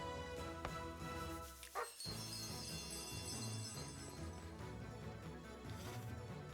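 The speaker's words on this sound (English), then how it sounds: "We pet this dog." A dog in the fantasy role-playing game Chained Echoes barks when petted, a couple of short yips against game background music, with a brief dropout in the middle.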